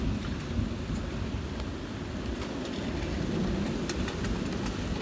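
A severe April thunderstorm in Toms River pours down steady, dense rain, with a deep rolling rumble of thunder underneath the whole time; no voices are heard.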